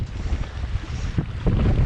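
Strong wind buffets the microphone in a steady low roar, with water and kayak noise beneath on an estuary crossing from Borth to Aberdyfi, Wales, no voices.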